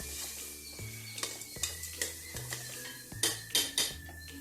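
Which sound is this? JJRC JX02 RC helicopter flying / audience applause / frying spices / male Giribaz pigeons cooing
frying spices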